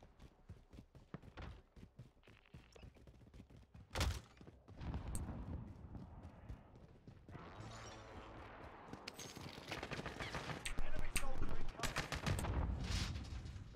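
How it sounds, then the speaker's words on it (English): Video game gunfire rings out in sharp single shots and rapid bursts, loud and close, with a speaking voice weaving through the shooting. "Who the fuck is shooting and where?"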